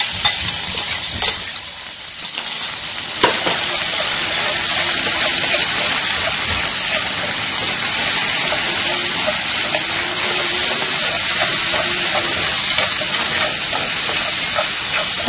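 Crab roe paste fries in a pot for a freshwater crab rice porridge, with a loud, steady sizzle and hiss. Occasional stirring scrapes break in early, and no speech is heard.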